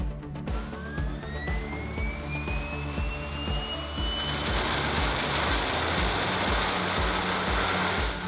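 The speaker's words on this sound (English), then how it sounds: "once the blades are finished, we put them together and test them in our full-scale test rig" An airship propeller whirring in a full-scale test rig, a loud steady drone with a tone rising in pitch as it speeds up, then a broad roaring rush as it reaches full power, no voices.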